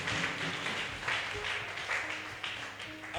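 A church congregation applauds and cheers during worship, a dense wash of clapping and crowd noise that swells and fades, with some voices mixed in.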